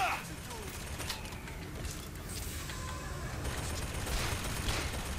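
A machine gun in Bioshock Infinite, rapid bursts of gunfire with mechanical clatter over a busy game background, while someone speaks.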